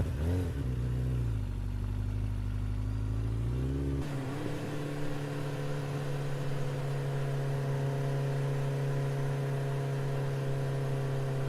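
A motorbike engine drones steadily while riding out in the morning, its pitch climbing through the first few seconds before a gear change settles it into a level cruising hum, close and continuous with no voices.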